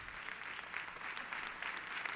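A church congregation applauds, dense clapping from a crowd heard faintly and steadily throughout, with no one speaking.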